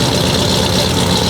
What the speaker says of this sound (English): you can hear back here the exhaust